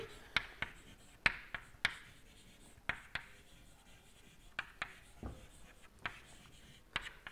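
A lecturer writes out a thermodynamics statement on a board during a lecture, making quiet scratching strokes punctuated by crisp taps at irregular intervals.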